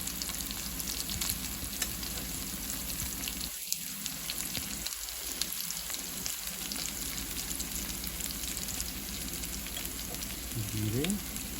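Onions browning with spices in a hot pan give a continuous, even sizzle and crackle, steady and moderately close, with a few brief dips and a soft scrape near the end.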